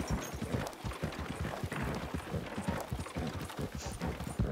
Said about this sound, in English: your horse is a really good horse